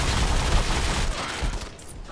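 Rapid, continuous automatic gunfire from the shooter game Modern Combat 5 rattles loudly and densely for the whole stretch with no pauses and no talk.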